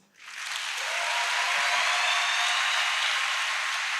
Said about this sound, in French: Vos applaudissements encore une fois, s'il vous plaît, pour Abi.